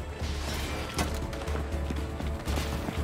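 Heavy gunfire in Gears 5: dense, continuous bursts of shots with sharp, loud impacts and crashes layered over a constant rumble of combat, no voices.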